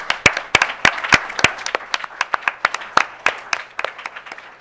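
Sparse, close clapping from a small audience recognising competition winners, individual hand claps clearly separated and irregular, loud and dry without talk.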